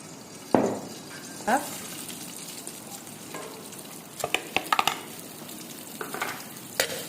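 Sautéing in a pan while making a chicken roll: a low sizzle with sharp spoon scrapes and clatters, one loud clank near the start and a quick cluster of knocks in the middle, and a voice speaking at times.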